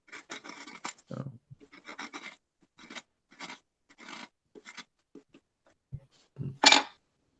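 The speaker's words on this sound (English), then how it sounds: "I just had to scrape something out of somewhere else." Something being scraped out with a tool, short rasping strokes in irregular bursts with pauses between, close and fairly quiet.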